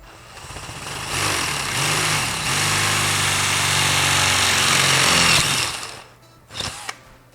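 A power drill fitted with an 11/32 bit and a drill stop whines steadily for several seconds as it bores, its pitch wavering slightly before stopping, followed by a few brief clatters.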